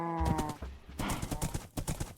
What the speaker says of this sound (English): Alright, let's see how this horse rides.